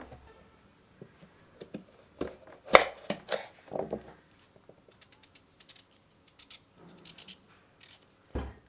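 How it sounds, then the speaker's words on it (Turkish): A knife slices large peeled carrots lengthwise, giving a close run of crisp, irregular cuts and taps with short pauses between strokes. "Şimdi doğramaya geçiyorum. Öncelikle şöyle uzun bir dilim yapalım."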